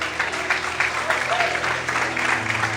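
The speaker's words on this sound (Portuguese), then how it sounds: "Quantos podem aplaudir e adorar a Ele?" Church congregation applauding during an evening worship service, a steady wash of clapping over the whole moment with a murmur of voices mixed in.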